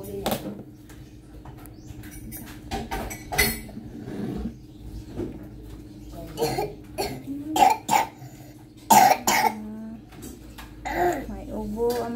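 A sick child coughs in a home, several short, scattered coughs and throat noises spread over the span, close by, with a person's voice and household sounds in between.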